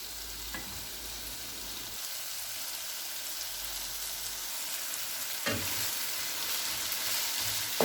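Mixed vegetables cook in a pan with a steady, faint sizzle and a couple of brief stirring scrapes, the frying hiss continuous throughout.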